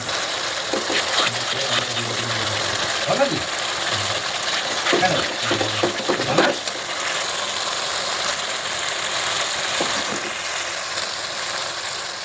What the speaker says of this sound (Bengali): তো দেখতেই পাচ্ছ একবার করে আলুর দমটা কষছি